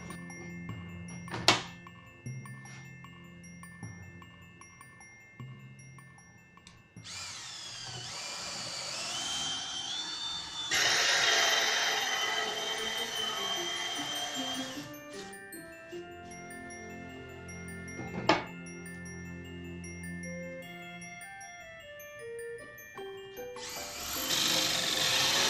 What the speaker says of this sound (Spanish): Luego vamos a hacer la perforación con nuestra broca de copa hasta la mitad.